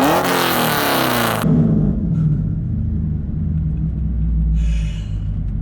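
A 5th-generation Camaro SS with a modified 6.2-liter LS3 V8 roars loudly up close in a brief burst, then settles into a deep, steady, throbbing rumble.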